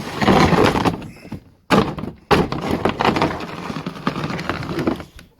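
A door is thumped and shoved repeatedly as someone forces it open, giving several heavy knocks and bangs with short pauses between them, close by and loud, with no talking.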